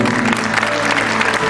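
An audience at a church play about Barabbas claps steadily in a short, dense burst of applause.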